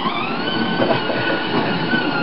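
A toy train, the Teddy Bear Express, runs with continuous rolling rumble, a steady high whine and rattling texture, moderately loud and unbroken, no voices.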